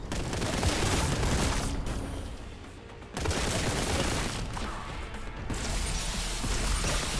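Rapid, sustained gunfire from a weapon in a Warhammer 40K video game, harsh and loud with crashing impacts, briefly dropping off near the middle before resuming at full intensity.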